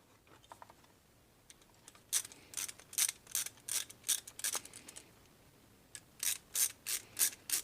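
A Snap-On number 2 screwdriver drives screws into a Honda XR/CRF motorcycle carburetor during a carb clean, making repeated close, crisp ratcheting clicks in short bursts, a sparse run first and then steady rhythmic clusters.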